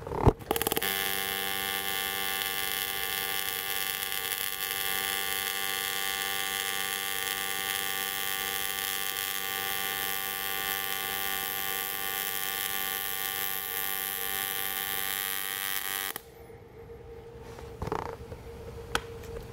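An AC TIG welder runs on aluminum with a steady, even electrical buzz that holds for about sixteen seconds and then cuts off, leaving quiet room noise; no one talks.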